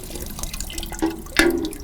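Water trickles and drips from a freshly opened automatic-drain garden tap, a faint gurgle with a brief louder splash near the end, heard close up with no voices.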